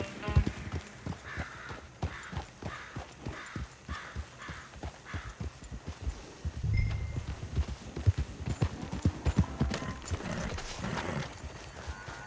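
Horse hooves pound at a gallop in Red Dead Redemption 2, a steady rapid clip-clop of close, sharp beats running throughout with a low thump midway.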